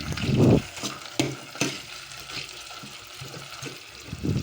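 Spatula mashing and stirring sardines as they sauté in a pan, with soft thuds and scraping over a low, steady sizzle, close and unaccompanied by speech.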